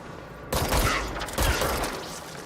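Sniper gunfire in the game Control: two loud, close blasts about a second apart, each with a broad crackling burst that rings out and decays slowly, with no speech over it.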